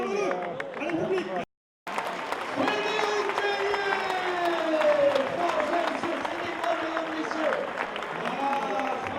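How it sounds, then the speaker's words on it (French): A roadside crowd claps and cheers at the finish of the Pontivy-Loudéac half marathon while an announcer talks over a loudspeaker throughout, the applause running as a steady bed under his voice. "Merci d'applaudir les propos de Stéphane Arnaud."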